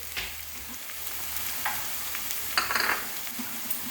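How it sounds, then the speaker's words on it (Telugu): Frying in a pan with a soft steady sizzle, broken by a few scraping stirs of the spoon; fairly quiet and close, with no talking. "వేయించుకోవాలి. బాగా ఎర్రగా వేగినాక"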